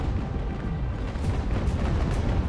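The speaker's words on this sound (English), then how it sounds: "We've got gunfire on 2 sides." Dense, rumbling cannon fire between sailing warships in the game Ultimate Admiral: Age of Sail, heavy booms blending into a continuous roar with no pauses.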